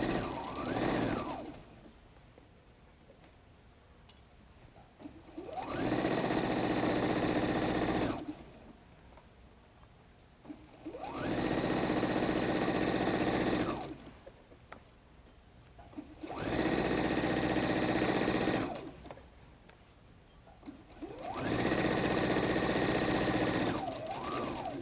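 A sewing machine stitches the lining of a messenger bag in four long bursts of steady, rapid mechanical whirring, each lasting a few seconds and separated by quiet pauses, close and loud with no speech.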